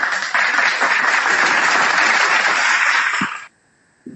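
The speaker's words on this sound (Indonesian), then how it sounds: "tepuk tangan ya, hebat" A crowd bursts into dense, steady applause that holds for about three seconds and then cuts off abruptly into near silence.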